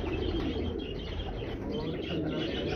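Pigeons in a breeding setup, including black-faced birds, coo in a continuous low murmur with occasional chirps, while a voice talks over them.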